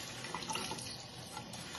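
Water runs steadily from a tap into a sink while a small child's face is washed, a continuous faint splashing hiss with no talk.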